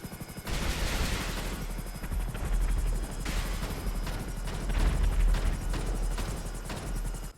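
A damaged, smoking helicopter in GTA Online flying during a battle: a loud, continuous rotor thumping and engine drone with rapid pulsing chops, swelling and easing over several seconds, with no talk.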